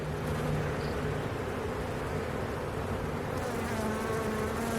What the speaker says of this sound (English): A lot of bees on this one.